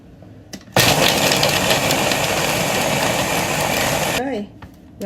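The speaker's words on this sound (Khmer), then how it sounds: "យើងកិនវាមកត្រីទាំងអស់ហ្នឹងខ្ញុំកិន3ដងបងប្អូនកិន3ដងព្រោះអីយើងកិនច្រើនពេកខ្លាចវាក្តៅម៉ាស៊ីនពេក" An electric grinder mincing fish switches on with a sudden loud, steady motor whir that holds for several seconds, then cuts off and winds down, with brief quiet moments before and after.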